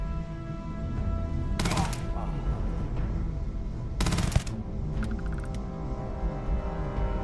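Gunfire in Starfield, bursts of sharp rapid shots standing out over a steady hum of game sound, with faint talk now and then.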